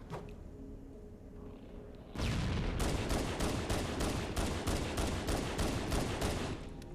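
Pistol fire in Halo Anniversary, a run of loud rapid shots bursting in after a quieter stretch, the cracks repeating in a fast irregular volley over steady battle noise.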